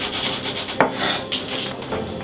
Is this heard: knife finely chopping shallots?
yes